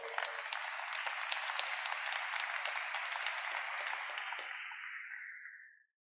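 A church congregation claps in steady applause for several seconds, then it is cut off and fades to silence.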